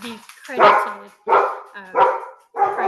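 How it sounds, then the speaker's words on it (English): A pet dog barks loudly and close by indoors, several sharp barks in quick succession with short gaps between them. "my dog is being very loud"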